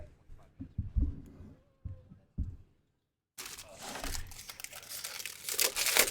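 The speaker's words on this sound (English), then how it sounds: "I'm going to take the plastic off" Protective plastic film crinkles and peels off a Redcat Machete RC car, first in a few short rustling bursts, then a pause, followed by a sustained, close, crackling rip and crumple.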